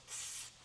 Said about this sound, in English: Well, we'll spray everything down.